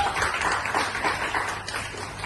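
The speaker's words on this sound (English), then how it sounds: "a huge round of applause" Steady applause from a stand-up comedy audience, a dense wash of clapping that holds at an even level throughout.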